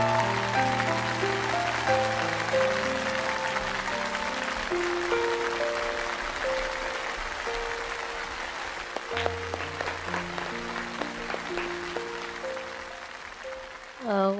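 An audience applauds a young singer on a televised talk show, with steady, full clapping running under sustained musical tones for the length of the clip.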